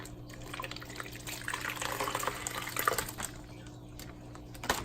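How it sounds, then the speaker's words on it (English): Water splashes and trickles steadily as fish are poured through a net held over an aquarium tank, a continuous wet pouring with small drips, fairly close and without talk. "All I'm gonna do is pour them"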